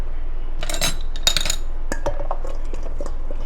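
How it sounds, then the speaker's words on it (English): A pastry blender works butter into flour and salt in a bowl for apple pie dough, giving a few close, crisp metallic clinks and scrapes in irregular bursts with short gaps between them. "I'm going to crumble this using a pastry blender"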